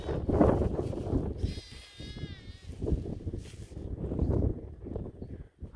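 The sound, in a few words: sheep bleating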